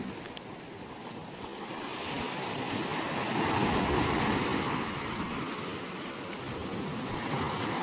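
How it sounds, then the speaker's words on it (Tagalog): Large ocean waves wash continuously onto a windy shoreline, a broad, steady roar of surf that swells gently in the middle, with wind buffeting underneath. "Mas malalaki po ang alon than yesterday."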